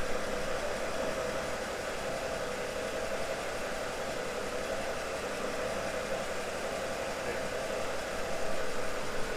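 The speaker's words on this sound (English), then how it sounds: "So just going to run it a minute, cycle through the gears." Diesel engine of a BMW with a ZF 6HP26 automatic transmission idling after a transmission service, a steady, even hum with faint mechanical noise, close by.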